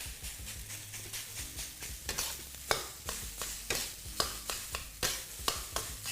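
Kimchi fried rice is stir-fried in a wok, with rhythmic scraping tosses roughly every half second over a constant close sizzle and no voices.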